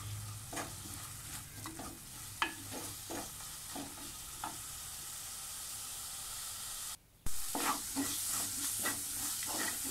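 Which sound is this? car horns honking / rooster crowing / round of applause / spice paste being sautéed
spice paste being sautéed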